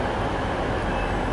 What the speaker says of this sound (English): It's puffing off like a steam train.